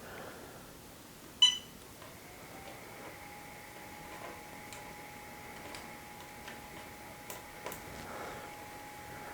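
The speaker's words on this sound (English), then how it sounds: "let's turn the machine on and put the SD card in" A Tiny Tina 2 3D printer powering up gives one sharp click, then a steady, faint electronic tone that holds on, with a few light ticks over a quiet room hum.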